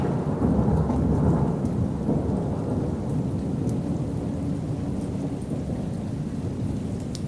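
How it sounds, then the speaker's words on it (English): A loud, sustained peal of thunder rumbles over steady heavy rain in a nighttime woodland storm, the roar gradually easing while rain keeps pattering throughout. "the loudest clap of thunder frightened not just us, but the owls also"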